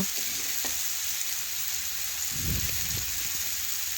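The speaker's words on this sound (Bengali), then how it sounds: "এই পাশের পটলগুলো অনেকটাই ভাজা হয়ে গেছে" Pointed gourd (potol) pieces fry in a pan with a steady close sizzle, joined midway by a brief scrape and clatter as the pieces are turned; nobody speaks.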